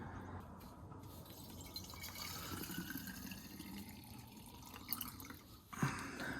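Water is poured onto potted plants as a faint, steady trickle with scattered drips, close by and quiet, with no talking.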